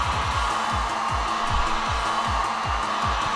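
Heat gun warming very old, dark 5% window tint on a car window, a loud continuous whooshing blower drone with a rapid pulsing rattle underneath, steady throughout and with no talking.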